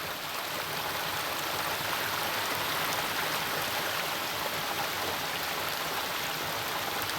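Water pours down a hillside at the foot of a hill, about 50 feet from the Thiru Neelakanda Vanapechi Amman temple in Vembaiyapuram, giving a steady, full rushing roar with no break and no voices.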